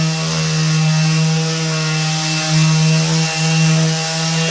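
A power sander drones loudly and steadily against a wooden butcher block workbench top, a constant motor hum with a rough grinding texture and no voices.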